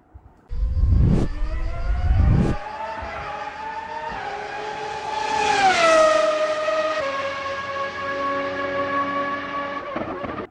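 A show intro for a motorsport history program, built from racing car engines: two loud low bursts, then a high whining engine note that rises, swoops and holds as a car races past, loud and close throughout.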